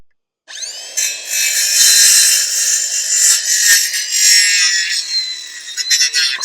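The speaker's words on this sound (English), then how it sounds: "I might as well cut the timber for the second cloche." A hand saw cuts through timber for a garden cloche, with steady, continuous strokes that start after a brief silence and run close and fairly loud to the end.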